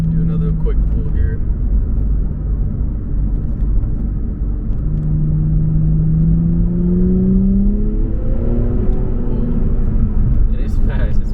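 An Infiniti Q60 accelerating hard: engine note climbing in pitch through a pull, then easing and rising again, heard from inside the car over steady road rumble.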